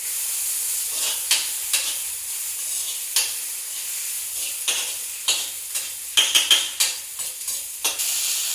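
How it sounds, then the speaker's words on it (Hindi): Thin-sliced potatoes and okra frying in oil, a steady soft sizzle punctuated by repeated light clicks and scrapes of a spatula against the pan, with no voices. "आलू बहुत पतले और बारीक काटे हैं ताकि जल्दी से भुन जाए"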